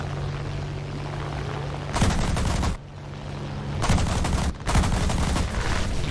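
Enemy aircraft gunfire in a flight combat video game, heard as three loud, sustained bursts of rapid automatic fire over a steady engine drone, with short pauses between the bursts.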